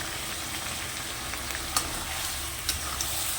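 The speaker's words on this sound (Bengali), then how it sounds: "ভালো করে আমি আলুটাকে কষিয়ে নিই" Potatoes sauté in a pan with ginger-garlic paste, turmeric and chilli powder, a steady close sizzle broken by a few light clinks of a spatula stirring, with no talking.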